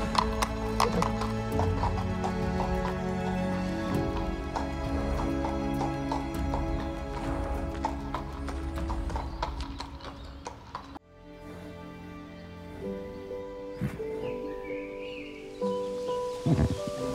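A horse clip-clops at a steady walking rhythm on firm ground with leaves rustling, then whinnies loudly and close, alone without talk, with a few birds faintly in the background.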